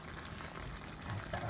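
Food sautéing in a pan, a steady loud sizzle and crackle with light stirring noises and no break.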